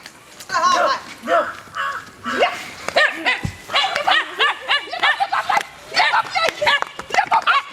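A dog in a village barks repeatedly in short bursts nearby, mixed in with people talking throughout.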